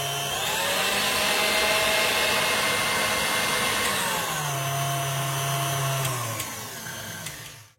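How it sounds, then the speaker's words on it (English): Electric hand whisk beating eggs and sugar for chocolate mousse, a loud continuous motor whine with shifting pitch as the beaters move through the mixture, close up, winding down at the end. "now we're going to keep whisking it until a soft peak"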